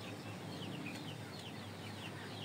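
Shamo and indio chicks and grown chickens in a coop make continuous soft clucking, with high chick peeps repeating over a constant hiss.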